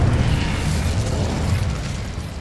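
The Incendio fire spell in Hogwarts Legacy erupts as a dense, rumbling burst of flame that roars continuously and fades slightly toward the end.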